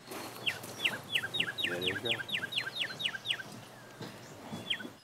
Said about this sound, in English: if you want to listen to a northern cardinal, come in a little bit